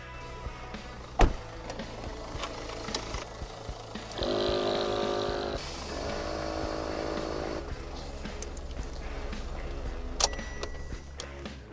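A compressor re-inflating the tyres of a 4x4 back to their original pressure after deflation, a steady motor drone rising in the middle of the clip over a low background rumble, with no talking.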